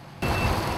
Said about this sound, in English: After filling up the water truck, the driver returns to the work site to avoid flying dust.